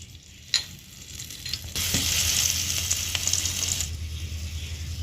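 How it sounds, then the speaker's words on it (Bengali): Green chili and black cumin (nigella) seeds fry in hot oil in a pan, a steady loud sizzle that starts suddenly after a light tap and carries on with crackles. "দিয়ে ভালো করে লঙ্কাটা আর কালো জিরেটা ভেজে নেব।"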